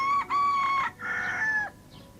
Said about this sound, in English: As soon as dawn breaks, the rooster stands in high place and calls.